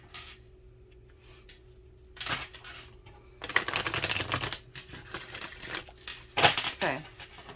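A deck of cards being riffled and shuffled, with a couple of louder crackling bursts of rapid card flutter against quiet room tone.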